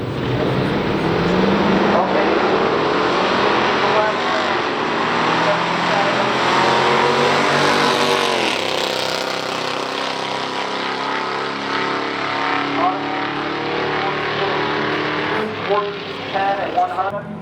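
A 1970 Buick Skylark 350 and a 1963 Studebaker Avanti drag racing, loud engines roaring and rising in pitch through gear changes, then passing and fading, with commentary over the top.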